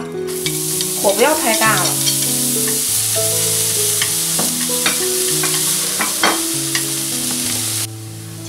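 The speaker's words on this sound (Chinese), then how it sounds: "锅烧热以后加油进来， 加葱花，" Chopped scallions sizzle steadily in hot oil in a heated wok, stirred with scraping strokes throughout, with background music and a brief voice speaking over the frying.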